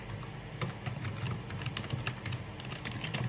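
Steady, close keyboard typing with quick irregular key clicks throughout, someone entering C# code on a computer keyboard, no voice present.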